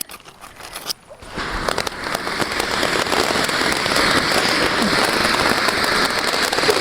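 After a brief quiet start, a large Sivakasi firework floor fountain ignites with a sudden rush and settles into a loud, steady hissing crackle that continues.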